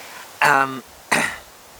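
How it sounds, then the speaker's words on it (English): Two harsh, forceful coughs from a COVID-19 illness close to the mic, the first strained and throaty, the second a short rough burst, with a brief pause between. "Violently coughing"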